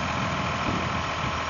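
A low, steady Pellicano Super 2500 garden tractor engine idle, rumbling evenly for a brief moment with no other sounds.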